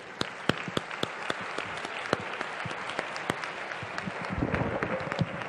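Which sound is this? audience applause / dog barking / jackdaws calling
audience applause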